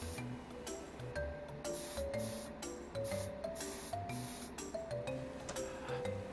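Spray gun applying sky-blue two-part urethane paint to a part from a long-neglected Honda C70 motorcycle under restoration, giving a steady hissing spray in repeated bursts over background music, with no talking.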